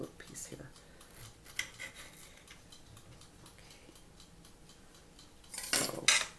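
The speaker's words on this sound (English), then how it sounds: "I've got to cut another little piece here." A small piece of pizza topping cut for English muffin mini pizzas, with soft scraping and clicking of a utensil on a plate, a few faint taps, and a louder burst of rattling clatter near the end.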